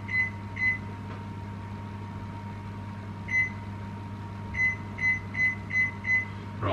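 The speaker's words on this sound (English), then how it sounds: "Place sausage onto microwave plate and cook for 1 minute 30." A steady microwave hum runs throughout while heating a sausage, with bursts of high electronic beeps from button presses, first two and later several in quick succession.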